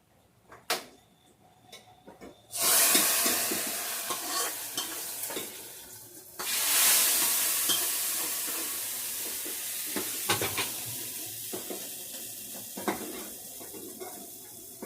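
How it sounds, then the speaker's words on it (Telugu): Spices for a moong dal tempering fry in hot oil with loud surging sizzles, the bursts rising and fading as a spoon clinks and scrapes against the pan nearby. "పోపు ఎంత బాగా వేగితే అంత బాగుంటుంది."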